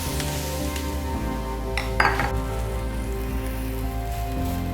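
Diced and slivered onions drop into a hot pan of olive oil and butter, giving a steady sizzle with a brief clattering burst of utensil or pan contact midway, close and continuous without talk.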